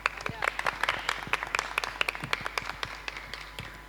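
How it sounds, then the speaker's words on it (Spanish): Audience applause welcoming a guest at a rural education event about Malvinas in Rafaela, heard as sparse, uneven clapping with distinct individual claps under some background murmur, moderately loud and steady throughout. "Vamos a recibirla con un fuerte aplauso."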